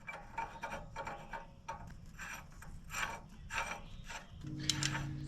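Hub nut on a 1980 Autocar truck being snugged down while the wheel hub is turned, giving quiet repeated scraping and grinding rubs with a rough, ratchety texture and a low hum joining near the end.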